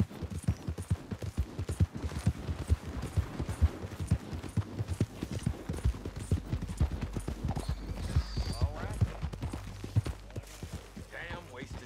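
Galloping horse hooves in Red Dead Redemption 2 pound in a fast, steady clip-clop close by, with bursts of distant gunfire and someone talking over parts of the ride.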